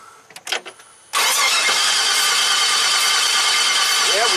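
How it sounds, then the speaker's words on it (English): A 2009 Chevy 3500HD diesel with about 421k miles cranks over without starting, a loud, steady starter-driven churn that kicks in abruptly after a second of faint clatter and runs continuously to the end. "Alright, go ahead, crank it over."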